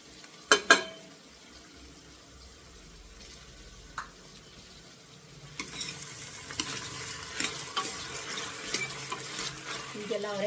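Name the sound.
lentils and capsicum being roasted in a pan for sambar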